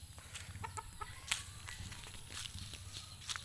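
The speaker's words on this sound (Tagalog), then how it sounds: "mahalin natin yung mga kaibigan natin ng mga manok" Chickens cluck softly at a distance over a low background hum, with scattered scratchy movement nearby.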